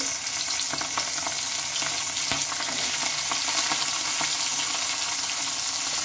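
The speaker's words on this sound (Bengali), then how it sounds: "পেঁয়াজগুলো হালকা করে ভেজে নেব" Sliced onions frying in hot oil with black cumin seeds, a steady close crackling sizzle throughout with a light clink of a utensil partway, and no talking.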